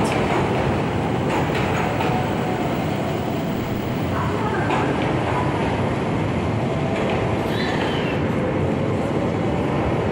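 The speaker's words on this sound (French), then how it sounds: "Welcome aboard the local train bound for Takikawa" Local train on the JR Hakodate line between Sapporo and Fukagawa, heard from inside the carriage as a loud, steady rumble with rolling wheel noise throughout and no clear talk.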